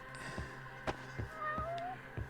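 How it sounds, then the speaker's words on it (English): A cat meows a few short times in the video game Judgment, soft and somewhat distant, over a quiet ambient game backdrop with faint tonal music. "Alright, where's the kitty cat?"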